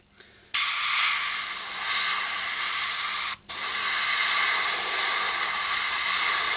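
An aerosol can sprays black paint over masking tape on a low-rider saw, a loud close steady hiss that runs for about three seconds, stops briefly, then resumes for another three.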